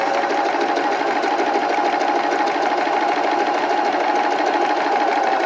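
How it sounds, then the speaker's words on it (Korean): A household sewing machine stitches the shoulder seam of a sleeveless summer dress, running in a steady, loud, continuous whir from start to finish with no talking over it. "가정용 재봉틀로 설명해 보겠습니다."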